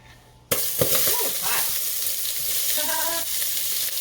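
Onion hits hot oil in a pot with a sudden loud burst of sizzling after a quiet start, then a steady fierce crackle continues; brief voice-like tones sound faintly under it.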